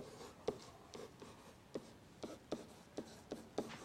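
A pen writes by hand on paper with soft, rhythmic scratching strokes about twice a second, quiet and close, with no talking.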